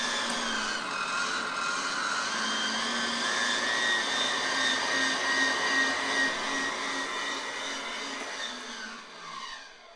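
A meat grinder runs a few pieces of ice through to push out leftover venison, making a steady motor drone with a grinding, churning rasp that fades out at the end.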